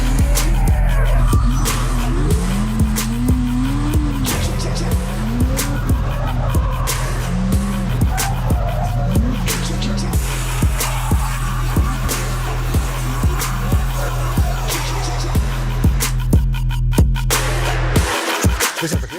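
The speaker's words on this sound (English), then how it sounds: "Today we are driving with our new drift car." A Pontiac Trans Am drift car roars continuously with its engine revving up and down, while sustained tire squeal and skidding carry on throughout at close range.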